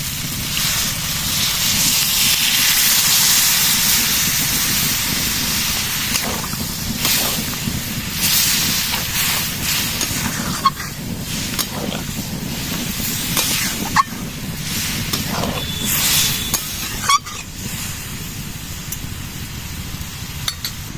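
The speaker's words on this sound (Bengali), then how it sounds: "এবারে দিয়ে দেবো জল।" Water hits a hot pan of soybean chunks with capsicum, bursting into a loud, close hiss and sizzle that slowly settles into steady bubbling steam with occasional utensil clinks.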